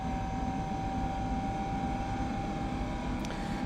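Engines of a Boeing 747 cargo jet throttling up for takeoff in the Prepar3D V4 flight simulator: a steady, loud, droning roar with a constant whine running through it. No voices are heard.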